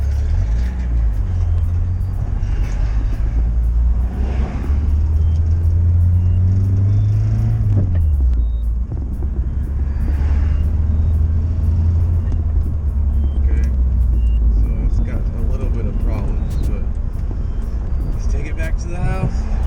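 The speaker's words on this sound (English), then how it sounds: "First time driving the car." A car drives down the street, its engine a loud low rumble that swells as it accelerates midway, then settles into a steady drone; voices speak faintly under the engine noise.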